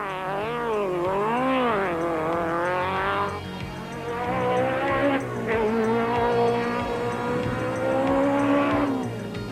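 Toyota Conquest rally cars race along a dusty mountain trail in 1993, engines wailing through rising and falling revs and gear changes, loud and close, with one car following another.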